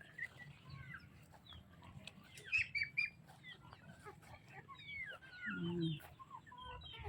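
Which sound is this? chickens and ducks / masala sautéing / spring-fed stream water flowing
chickens and ducks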